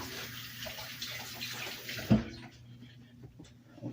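A kitchen tap runs steadily as a meat injector is rinsed out, with a brief splash midway and the flow cutting off soon after, leaving faint clatter.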